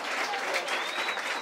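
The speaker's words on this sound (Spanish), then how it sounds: "fuerte aplauso para Suspiro" A crowd at a written rap battle event applauds the rapper Suspiro, a brief, even burst of dense clapping with a faint whistle over it.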